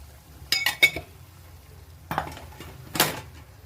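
A spoon clinks and scrapes against a pot while chilli powder and coriander powder are stirred in, a quick cluster of taps followed by a few more scrapes, close and fairly quiet.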